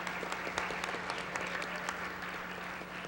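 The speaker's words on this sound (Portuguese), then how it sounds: "eu queria uma salva de palmas para a Associação Santo Dias" Audience applause at a solemn session in Ceará honoring the Associação Santo Dias during a 40th-anniversary ceremony, steady dense clapping throughout with a faint steady hum underneath.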